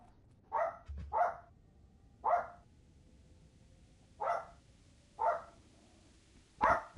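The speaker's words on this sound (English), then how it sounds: "The dogs are tweaking." Minecraft dogs bark in loud, sharp single yaps spaced irregularly, six or so barks close by with quiet gaps between them and no talking.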